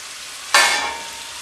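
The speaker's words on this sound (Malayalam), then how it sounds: "അപ്പോൾ ഇതൊന്ന് നന്നായിട്ട് ഫ്രൈ ആയി വരട്ടെ" Potato pieces for chilli potato drop into hot oil, setting off a sudden loud burst of bubbling sizzle that then settles into a softer, steady fry. No voices.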